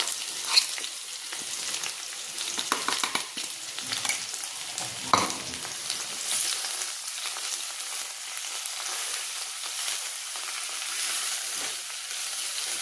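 Okra fries with masala in a pan for dhaba-style bhindi, giving a steady close sizzle with occasional stirring scrapes and no talking.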